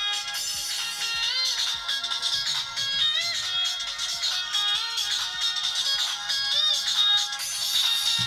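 A bright, repeating polyphonic ringtone melody plays from a 2000s mobile phone, loud and continuous, with quick note runs looping throughout and no talking.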